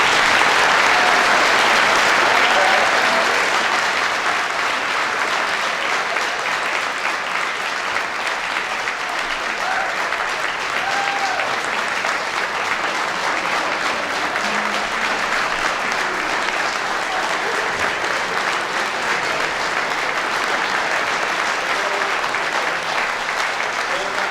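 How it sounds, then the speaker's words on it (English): Sustained applause from the crowd at a veterans dinner for the cadets, a dense, even clatter of many hands that starts loud and settles slightly, continuing for over twenty seconds. "So please round of applause for the cadets."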